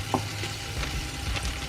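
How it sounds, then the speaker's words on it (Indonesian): Meatballs go into a pot of frozen soto Betawi being heated on the stove, giving soft sizzling and light stirring clatter, close and quiet, with no one talking. "Ini mulai kita masukin ya baksonya."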